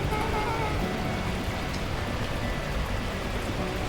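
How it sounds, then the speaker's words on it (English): Torrential rain pours steadily in Beacon Pines, a dense, even hiss of heavy downpour that holds constant throughout without any break. "unleashing torrential rain."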